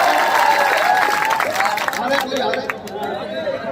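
A mushaira crowd claps for a poet with dense, steady applause mixed with chatter and scattered calls, fading slightly toward the end.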